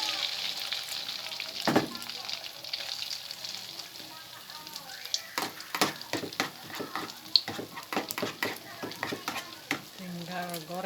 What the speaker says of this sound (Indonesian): Tinggal goreng.